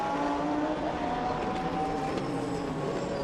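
GT1 race cars brake for a hairpin on a circuit in Portugal, with a steady, loud roar of engines and wind blended into one dense wash and a faint whine rising and falling through it.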